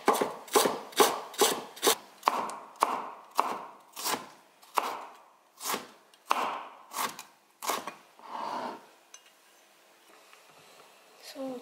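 A knife chops steadily on a board, finely cutting ingredients for miso soup, about twenty crisp close strokes in a quick rhythm that slows and fades toward the end, with a voice speaking faintly.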